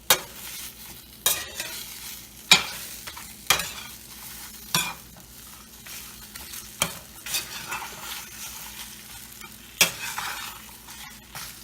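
Eggs and tortillas sizzle in a frying pan while a utensil stirs and scrapes, a steady close sizzle punctuated by repeated sharp clacks against the pan every second or so.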